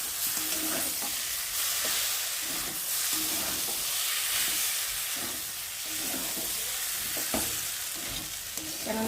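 Dal of moong lentils and broken wheat scraped and stirred in a cooking pot to keep it from sticking, a steady sizzling hiss with soft irregular spoon scrapes, close and continuous, no voices.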